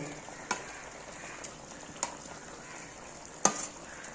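Paneer cubes go into a hot pan for shahi paneer, giving a steady soft sizzle broken by a few sharp crackles and spits, with no talking.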